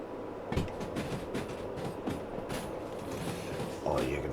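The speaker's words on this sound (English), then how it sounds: "Big old train and a lot of weight, and it needs to move." A heavy train in the video game Derail Valley rumbles along steadily with rhythmic clicking and clanking, a continuous mechanical rolling sound at moderate volume.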